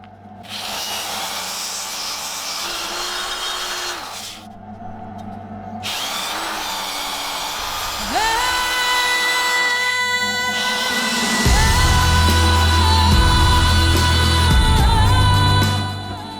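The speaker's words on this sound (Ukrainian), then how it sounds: "використовую пелісткові кола прямого шліфування" A loud power tool with a flap disc of 80 to 180 grit whirs and grinds against a steel helmet in long passes, pitch shifting with load, with brief stops and restarts.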